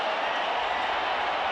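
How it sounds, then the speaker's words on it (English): Rockies home crowd roaring at a 1995 National League Division Series playoff game against Atlanta in Colorado, a steady, dense wall of cheering that holds evenly loud throughout. "And the reaction from the Rockies crowd and their dugout."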